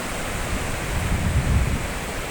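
Sea waves at Karon Beach in Phuket make a loud, continuous surf roar with a deep swell building near the middle, heard close by with wind buffeting the microphone and no voices.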